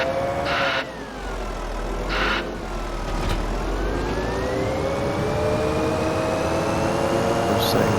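A farm vehicle's engine in Farming Simulator 25 runs steadily at the shop, a continuous drone with a slowly rising and falling whine, punctuated by a few short bursts of higher noise.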